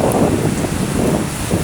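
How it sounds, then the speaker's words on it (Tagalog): Strong typhoon wind roars steadily in Bataan, gusting across the microphone with a dense, unbroken rush that may carry driving rain beneath it; loud and close with no talking. "Ang lakas ng hangin."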